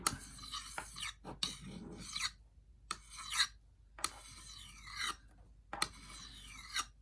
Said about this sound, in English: So it's not gouging into the steel of this edge, but it is filing it off at a nice rate.